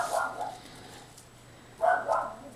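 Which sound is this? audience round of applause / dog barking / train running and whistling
dog barking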